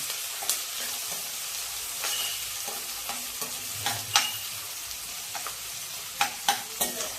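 Chopped onions sizzle steadily in a pan while being sautéed for a quick bread-based bhaji, with a continuous frying hiss broken by periodic scraping stir strokes, close and clear, no talking.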